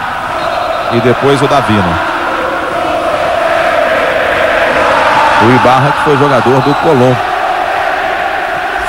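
A roaring stadium crowd of Colón supporters at a 2000 Copa Libertadores semifinal between Boca Juniors and América: a constant wash of massed voices and chanting beneath a commentator speaking Portuguese in bursts.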